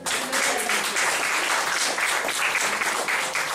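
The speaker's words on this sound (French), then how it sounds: "Acclame le Seigneur" A church congregation applauding during a sermon, producing dense, sustained clapping that fills the room evenly from start to finish.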